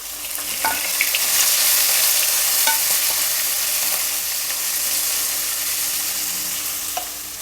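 A large chopped onion fries in oil with coarsely pounded pepper and cumin, a continuous hissing sizzle with scattered small crackles, steady and fairly loud with no one talking.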